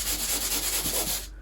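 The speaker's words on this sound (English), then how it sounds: "Give it a good sanding." Hand sanding a dried joint-compound patch over a hole in drywall, a loud close rhythmic scratch of back-and-forth strokes about five per second, ending abruptly.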